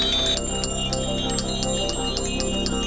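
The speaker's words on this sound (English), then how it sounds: "if you have a bell, please ring it" Bicycle bells ring repeatedly in an uneven, overlapping scatter during a memorial group ride past a crash site, bright metallic dings over a steady low hum of riders and background noise, with no talking.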